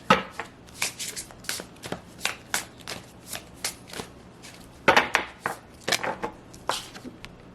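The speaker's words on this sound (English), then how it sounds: "I'm going to pull some oracle cards and see what comes out here." A deck of oracle cards being shuffled by hand, with repeated crisp riffling bursts in an uneven rhythm, close and fairly loud, with no talking.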